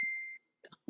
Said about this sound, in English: I'm so sorry about the beeping.